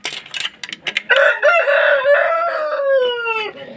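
Chickens on a farmyard: a few short clucks open, then a loud, drawn-out rooster crow rings out close by, with no talk over it.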